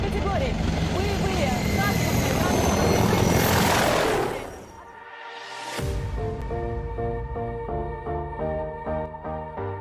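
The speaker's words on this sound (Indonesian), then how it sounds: "helikopter militer melintas hanya beberapa inci di atas kepalanya" A loud low-flying military helicopter roars overhead, its rotor noise swelling and then sweeping past with a sharp pitch shift, while a voice talks through it.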